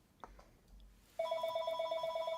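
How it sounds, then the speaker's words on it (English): A telephone rings steadily and loudly in a quiet room, its repeated electronic trill starting abruptly after a faint knock and continuing without pause. "my telephone is ringing and it will ring until it stops."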